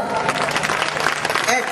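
Festival audience applauding a performer on stage at the final night of an Italian songwriting festival in Isernia, a dense wash of clapping with crowd noise and a voice over it.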